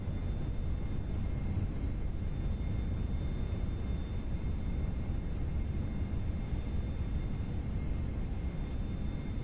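An FSLabs Airbus A320 in a flight simulator roars with reverse thrust after landing, a loud, steady broadband engine rumble with a faint whine above it, continuous and unbroken.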